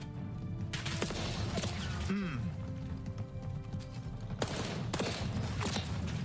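Gunfire in Call of Duty Black Ops 6 multiplayer, rounds punched through a wall in a quick burst amid busy game noise, with a player talking over it.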